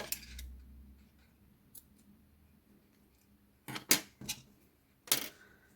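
Scissors snipping crochet yarn, with a few short, sharp, close clicks of the blades in an otherwise quiet room.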